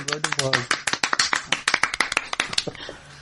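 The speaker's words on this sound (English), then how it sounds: "Whoa, round of applause." Small group applause for the show's hero Isaac at a Christmas special podcast wrap-up, a burst of close, uneven hand claps lasting about three seconds, with voices mixed in at the start.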